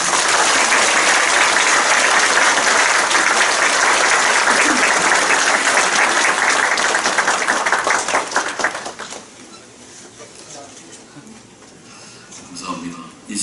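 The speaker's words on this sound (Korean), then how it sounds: "큰 박수를 부탁드리겠습니다." An audience at a church installation thanksgiving service breaks into loud, sustained applause for about eight seconds before it fades, with a voice beginning to speak as the clapping dies away.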